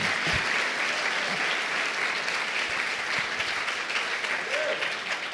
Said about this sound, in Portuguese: Você pode dar um grande aplauso ao nosso Deus?